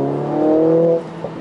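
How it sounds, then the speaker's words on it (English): Engine note of a 2020 Mercedes A45 S AMG lifting off the accelerator in race mode, a loud, steady harmonic drone that holds for about a second before cutting off, followed by a faint pop. "when you let go the acceleration pedal, you can hear that AMG sound"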